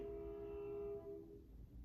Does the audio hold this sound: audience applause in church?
no